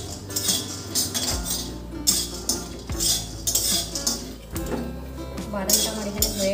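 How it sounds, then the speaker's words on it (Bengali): Peanuts dry-roasting in a pan for khichuri, stirred with repeated close scraping and rattling bursts of nuts against metal, with a low steady tone underneath. "শুকনো খোলায় ভেজে নিচ্ছি"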